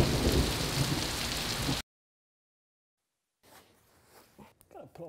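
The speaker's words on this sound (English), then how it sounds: "welcome to Florida, where it starts to rain any point in time" Steady outdoor rain in Florida, a loud, dense hiss for about two seconds that cuts out, followed by faint rustling and brief movement sounds.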